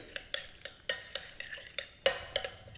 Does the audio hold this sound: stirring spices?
yes